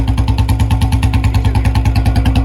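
A BS6 motorcycle engine idles on its stand during a vibration test, a loud, close, steady low thumping pulse with a fast even rhythm and a rattly clatter on top.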